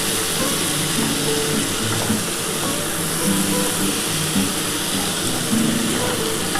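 Yardlong beans and potatoes with coriander leaves sauté in a pan, giving a steady, close sizzle that runs without a break and has no talking over it.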